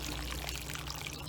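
Water poured gently onto freshly planted seeds in soil, a steady close pouring stream with soft trickling, continuous and alone for about a second.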